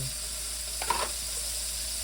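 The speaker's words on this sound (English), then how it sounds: "It's gonna be all frying one time." Garlic and ginger sizzle steadily in a hot pan for chili with a constant hiss, and a brief scrape of stirring comes partway through.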